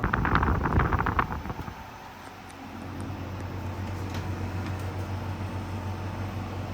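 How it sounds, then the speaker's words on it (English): A portable air conditioner's fan runs on high with a steady, whooshing hum, preceded by a short burst of clattering noise, fairly close and moderately loud. "You can hear the fan, like it's right now on high fan"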